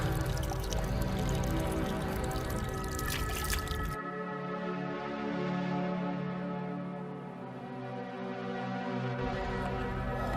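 Water runs and splashes steadily to wash dirt off a rubber gasket, close and continuous throughout. The flow gets softer and thinner partway through.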